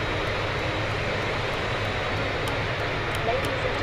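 Philippine Airlines airliner taxiing toward the gate, heard from inside the cabin as a steady, loud broadband rumble of engines and rolling wheels with no break, a few faint ticks above.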